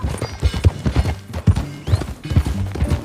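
Rhythmic clip-clop of horse hooves trotting close by in Red Dead Redemption 2, steady and loud, with no talking.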